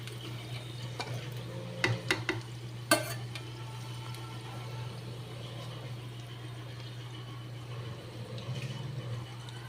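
Taro stems dropped into hot oil with scorched dried chili give a steady low frying hiss, with a few sharp clatters of stirring near the start and again toward the end.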